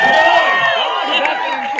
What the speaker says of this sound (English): Round of applause to Team Saint.